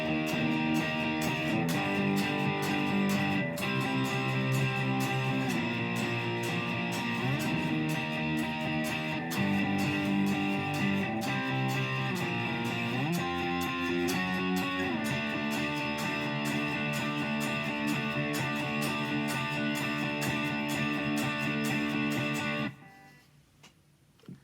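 A distorted electric guitar plays a power chord riff from a song from Freaky Friday, a dense rhythmic strumming pattern that runs loud and steady for over twenty seconds, then cuts off abruptly.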